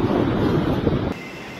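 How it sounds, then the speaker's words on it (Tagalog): Strong typhoon wind roars and rushes at Virac, Catanduanes, in the Bicol region, loud and continuous, blending with churning sea noise during heavy rain. "Ang hangin sumisipol."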